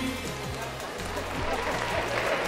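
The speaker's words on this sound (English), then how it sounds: "So claps for Mayuri." Audience applause at a JALWA 2024 dance show, cheering a coach named Mayuri: a steady wash of clapping from a crowd, moderately loud and continuous for the whole stretch, with low rumble underneath.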